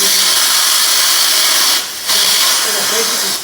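A laser-lab vapor extractor gives a loud, steady broadband hiss that cuts out for a moment and then returns as a foot pedal switches it off and on again.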